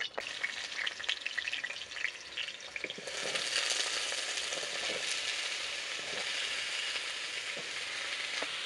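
Potatoes frying in oil in a wok for a rustic Bengali fig dish, an uneven crackle and sputter at first that swells into a loud, steady sizzle and continues to the end.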